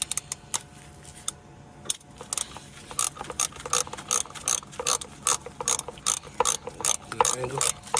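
Hand ratchet clicking as it loosens bolts on a 2004 Nissan Sentra during thermostat work, with bursts of rapid pawl ticks in an uneven rhythm, close and clear, and no talking.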